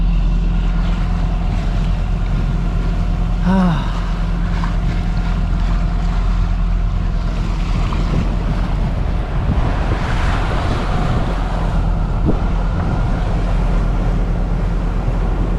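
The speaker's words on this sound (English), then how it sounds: "on the verge of the luff with the engine on, and we can make 6 knots. But it's not comfortable. It's very rolly." A sailboat motors under engine with the jib out through rolling waves, giving a steady low engine drone mixed with wind rush and water wash and a brief creak partway through.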